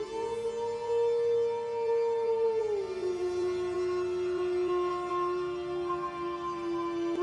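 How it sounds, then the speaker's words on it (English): A wolf howls in one long, sustained, tonal cry that slides down in pitch partway through and holds steady to the end, loud and alone. "Wolf. A wolf says,"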